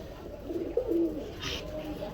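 A Giribaz pigeon coos softly and close by, a short low rolling call with faint background noise.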